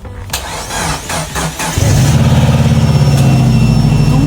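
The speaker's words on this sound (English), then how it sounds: "Let's see if it's possible to jump just using the jump start and start this vehicle" A Subaru Impreza's engine, after sitting unused for years, cranks a few times on a jump start, then catches and settles into a steady, loud idle close by.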